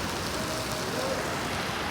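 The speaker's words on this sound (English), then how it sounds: "It's raining." Steady rain falls outside near a dog and its owner, a dense, even hiss that holds unbroken through the whole moment.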